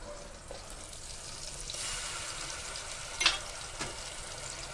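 Ginger-garlic paste and salt sauté in a pan for mutton curry, with a soft, steady sizzle, a brief stirring scrape near the end, quiet and close, with no talk.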